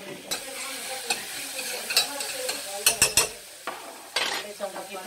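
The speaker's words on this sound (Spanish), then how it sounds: "El ajo tiene que estar bien dorado con la cebolla." Garlic and onion fry in a pan while being stirred, a steady close sizzle broken by sharp metallic clinks and scrapes of a utensil against the pan, with no voices.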